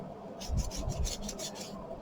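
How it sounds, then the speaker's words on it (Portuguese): Cardboard rubbed by hand with sandpaper, rounding the edges of a cut cardboard heart; a steady run of rasping strokes, close and fairly loud, with no voices. "E aí vou começar a lixar."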